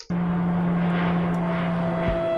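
A steady drone from a plane flying over a parachute drop zone at about 1,000 feet, with a constant engine hum and no voices.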